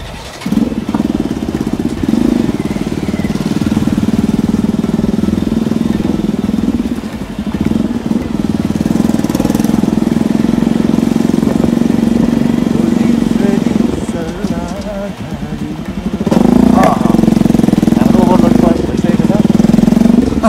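A motorcycle engine drones steadily while riding on a rural road in Bhojpur, Nepal, loud and close with shifting revs and a brief dip midway, and someone talks over it throughout.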